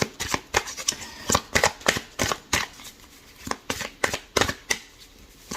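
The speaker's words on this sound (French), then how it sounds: "On va tirer une deuxième carte." Playing cards are shuffled and drawn for a card reading, giving a quick run of crisp, close riffling snaps and flicks at an uneven rhythm, with no talking.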